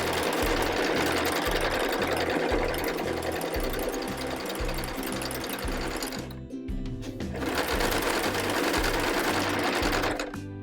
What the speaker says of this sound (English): we're going to begin to sew